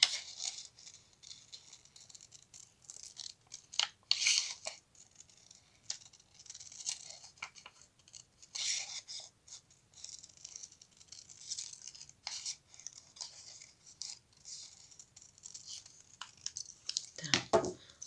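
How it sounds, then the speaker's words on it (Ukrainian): Scissors cut through paper while a paper angel charm is made, quiet sporadic snips and crisp rustles spread through a near-silent room, with a louder crinkle near the end. "беремо наш папір та знов ножиці та продовжуємо чаклувати, вирізати"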